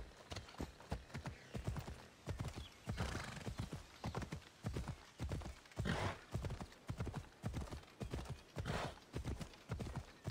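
Horse galloping in Assassin's Creed Odyssey, with a fast, steady run of hoof clip-clops and occasional whinnies, heard fairly quietly as game audio.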